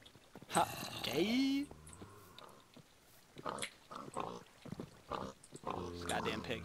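A pig in Minecraft oinks and grunts in short, snorting bursts, alternating with a person talking over the game sounds.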